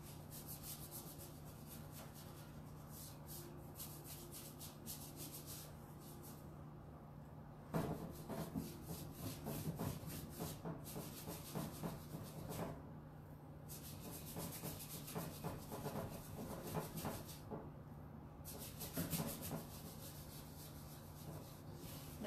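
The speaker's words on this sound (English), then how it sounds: "I'm going in circles with my wax to make sure I get every groove, every nook and cranny." Wax rubbed in circles onto a painted wooden jewelry armoire, a steady close scraping and brushing texture with repeated short strokes and a low constant hum underneath, no talk.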